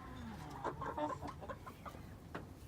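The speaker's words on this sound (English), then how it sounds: "And I got these random chickens that like to sleep up here." Chickens settling on a roost in a backyard coop give soft, scattered clucks and low murmurs, close by and fairly quiet, with a brief louder cluck or two among them.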